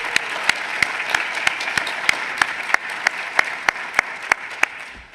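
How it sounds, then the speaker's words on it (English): Applause from a conference audience for the organizers at a meeting's wrap-up, a steady dense wash of clapping with sharp individual claps standing out at a regular beat, no voices. "I want to applaud Dr. Morris and his team for organizing a spectacular meeting"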